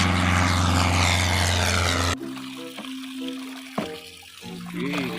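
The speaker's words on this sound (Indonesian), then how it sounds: "ada pesawat terbang" A propeller airplane in a video game drones loudly with a steady engine hum, then cuts off abruptly, leaving quieter tonal game sounds and faint effects.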